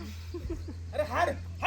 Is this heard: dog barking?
yes